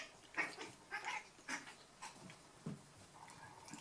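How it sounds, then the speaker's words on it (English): Indoor house cats scuffle, giving short bursts of hissing, yowls and thumps in an uneven rhythm, fairly faint and somewhat distant, with no talk. "kitties are fighting"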